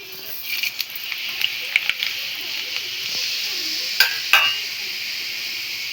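Chili seeds sizzle and fry in hot oil in a home kitchen while lemon pickle is being made, a steady hiss broken by small pops and stirring scrapes, with a few sharper crackles near the end.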